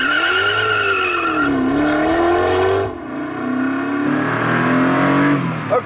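A Koenigsegg supercar on a record run at a test track accelerates hard. The engine note is loud and close, climbing and dipping in pitch through the gears, with a rough tire-and-wind roar rising near the end.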